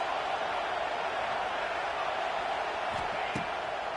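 A football stadium crowd roars steadily behind the defense on a big third down, a dense, loud wash of cheering with a couple of sharp bursts near the end.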